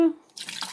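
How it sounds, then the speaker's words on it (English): Liquid dripping onto a kitchen counter during a kids' summer drink-making session, a single faint drop followed by a soft splatter and trickle, close and quiet. "It is dripping. It is a little all over my counter"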